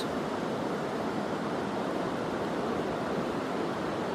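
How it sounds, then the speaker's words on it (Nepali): Constant rushing water noise of the Rangit river, a steady broadband flow without breaks, running nearby. "यो रङ्गीत खोला चाहिँ यसरी बगेर चाहिँ यसरी उँधो जान्छ।"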